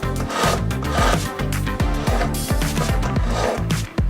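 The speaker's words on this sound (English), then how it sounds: "File any remaining supports and the base of the ring." A metal file works over a cast metal ring made in a dental prosthetics lab, producing close, rhythmic rasping strokes that repeat in quick succession with short pauses between them.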